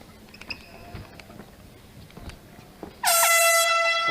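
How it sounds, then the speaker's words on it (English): An air horn signals the end of a round at an aLFA MMA bout: after a few seconds of murmuring arena crowd noise, a loud, sustained, shrill blast cuts in and holds to the end. "Horn sounds."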